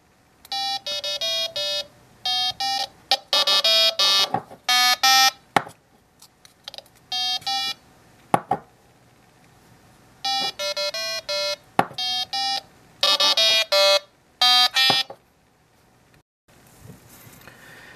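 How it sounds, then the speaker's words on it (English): Piezo buzzer on an Arduino-based SquareWear wearable microcontroller board, driven from MOSFET pins, playing loud bursts of rapid electronic beeps in repeated melodic clusters with short silent gaps between them. "if you have a buzzer or speaker, the sound will be much louder if you use the MOSFET pins versus the normal microcontroller pins"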